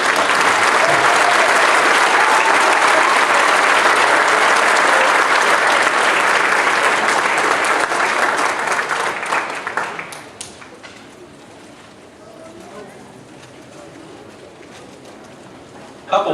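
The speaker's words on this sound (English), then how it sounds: "So if we could give them a round of applause for this." Loud, full applause from the audience at a high school spring band concert holds strong for about ten seconds, then thins quickly to scattered claps and quiet room noise with a little talk.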